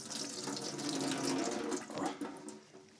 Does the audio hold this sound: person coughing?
no